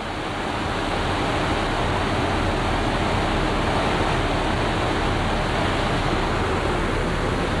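Wake churned up behind a cruise ship at sea, a constant loud hissing rush of foaming water, broad and steady like surf, with no voices.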